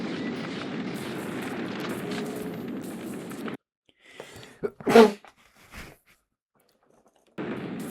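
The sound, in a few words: sneeze in a video game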